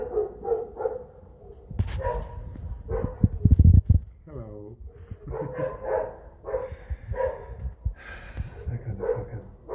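Several dogs bark in bursts at a quiet house in a sandstorm-prone area, mixed under ongoing conversation and a brief greeting, with a gusty rumble partway through.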